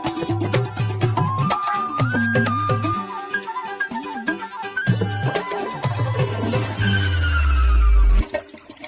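A public restroom toilet flushes loudly, a rushing gurgle building and swirling before draining away with a final deep surge, set against background music and tones with no talk.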